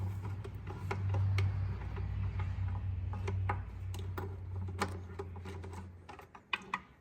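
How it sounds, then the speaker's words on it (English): Ratchet turning out bolts from the oil cooler of a 2014 Dodge Journey 3.6 AWD SXT, rapid close ticking clicks over a low steady hum, ending with a few louder separate knocks. "those bolts are coming out easily."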